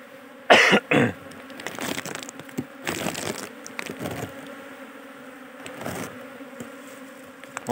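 A swarm of honeybees being collected into a colony: a continuous buzzing hum with a few louder close bursts and rustling knocks near the start.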